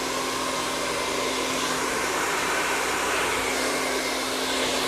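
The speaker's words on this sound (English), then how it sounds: "Remember to dry the roots really good." A hair dryer blows steadily and loudly at close range while hair roots are being dried, a constant whooshing roar with no pauses.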